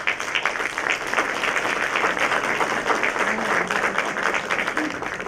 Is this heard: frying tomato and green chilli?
no